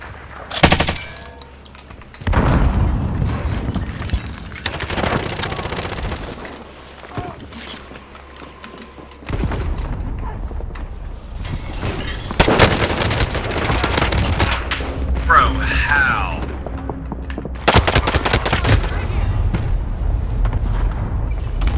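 Rapid bursts of automatic fire and pistol shots from a video game firefight with Sykov pistols and a Stoner, loud and repeated in several volleys with pauses between, under intermittent player voices.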